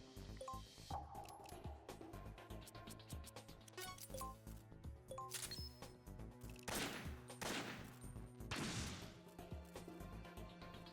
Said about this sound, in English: I'm going to be shooting the back of this thing. Oh, I shoot 3 bullets now.